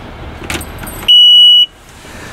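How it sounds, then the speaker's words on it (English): A key turns in the ignition of an Elite C4 rental boat, with soft clicks followed by a single steady electronic beep of about half a second, loud and close. "You simply just put the key in and turn it to the on."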